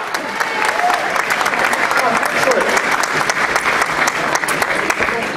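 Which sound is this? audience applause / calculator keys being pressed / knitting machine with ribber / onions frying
audience applause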